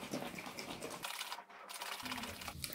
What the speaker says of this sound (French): j'ai plus qu'à refermer et à secouer pour mélanger